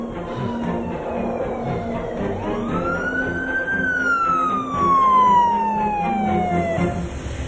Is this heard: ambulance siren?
yes